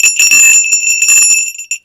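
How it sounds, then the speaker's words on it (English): Small sleigh bells jingle and ring brightly for a moment, a cluster of clear metallic tones that quickly fade. "she really loves sleigh bells"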